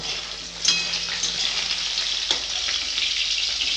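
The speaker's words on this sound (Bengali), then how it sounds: "এইভাবে সব মাছগুলো ভেজে নেব" Fish frying in hot oil in a kadai, a steady close sizzle with a sharp burst of spattering near the start and occasional pops and stirring clinks throughout, no voices.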